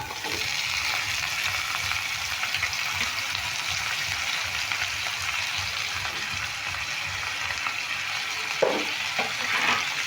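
Cut potato and carrot fry with chopped green chilli in a pan, a continuous close hiss of sizzling oil with a couple of faint clinks near the end.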